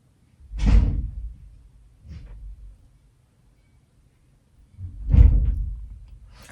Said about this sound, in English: if you ever hear like slamming of doors or like noise in the background, those are my flatmates